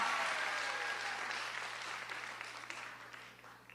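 Church audience applause before a live beatbox performance, a faint, steady wash of clapping that slowly fades out over a low hum.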